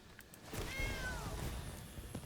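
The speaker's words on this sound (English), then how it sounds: "Treasure comes in as a cat." A cat meows once as a sound effect in the MTG Arena digital card game, when a treasure token enters as a cat. The rising and falling call is clear and close, over faint game ambience.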